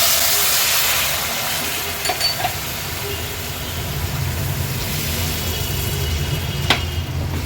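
Water is poured onto ground masala paste frying in hot oil for a catfish egg curry. It sets off a loud, continuous hiss and sizzle with a low bubbling rumble underneath, and this lasts throughout.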